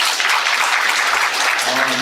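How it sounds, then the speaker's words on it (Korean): Steady applause from an audience at a Seoul city briefing on redevelopment planning, dense clapping sustained throughout with no pauses, fairly close and moderately loud. "뜨거운 박수 부탁드리겠습니다"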